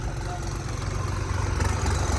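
A New Holland 3630 Special Edition tractor engine runs with a steady, low, throbbing rumble. The brief idle stays at an even level with no other sounds.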